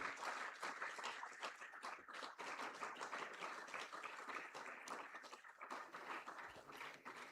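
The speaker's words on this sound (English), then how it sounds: "A big round of applause, I would say, for our brother also." A crowd claps continuously for several seconds at an award ceremony, a dense, even patter of applause heard from a little distance.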